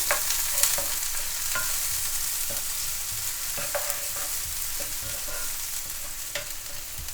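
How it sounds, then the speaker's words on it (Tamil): Onion and green chili sautéing in a pan: a continuous close sizzle with frequent light clicks and scrapes of stirring, fairly loud and steady throughout, with no talking. "இப்போ வெங்காயம் மிளகாயும் ஓரளவு வதக்கி கொள்ளுவோம்"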